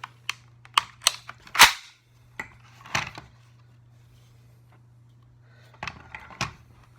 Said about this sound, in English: take your rifle apart if you need to clean it or maintenance it, and then put the thing back together